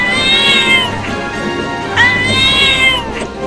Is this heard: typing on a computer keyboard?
no